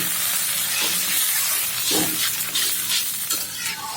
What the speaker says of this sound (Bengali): এইভাবে আমি ভেজে লাল লাল করে নেব